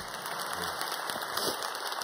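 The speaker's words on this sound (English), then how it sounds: "So give him another round of applause." Faint, steady applause from a conference audience at SOCAP14, a soft rain-like wash of distant clapping with no voices over it.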